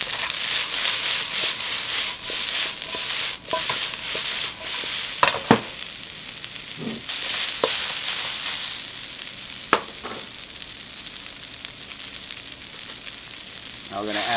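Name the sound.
stir-frying broccoli and chicken sausage in oil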